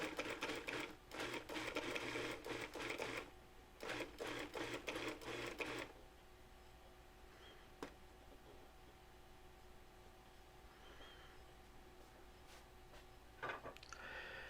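A food processor pulses bananas for almond flour banana bread: several short, close whirring bursts in quick succession, then near silence with faint clicks.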